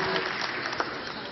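Brief, steady applause from spectators at a 10m air rifle European Championship final in Odense, Denmark, honoring the bronze medalist, an even wash of clapping with one louder clap near the middle.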